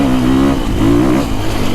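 A 450 off-road four-stroke dirt bike engine revs loud and close, its tone rising and falling through two strong pulls over a constant rumble.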